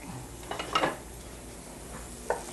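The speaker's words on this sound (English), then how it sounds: "we're going to stir it around" Celery being stirred around in a pan, giving a few soft scraping and clinking strokes of a utensil against the cookware, with a faint sizzle beneath.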